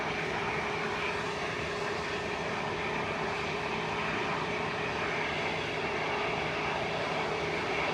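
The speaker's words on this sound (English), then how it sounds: "Heading off to Corfu with flight 823 for Jet 2 now. A321neo." A Jet2 Airbus A321neo takes off from Manchester Airport for Corfu, its engines producing a loud, steady roar that holds across the whole stretch with no voices.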